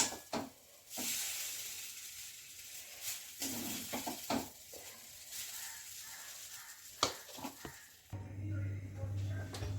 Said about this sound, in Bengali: এখন এইগুলোকে আমি ভেজে নিচ্ছি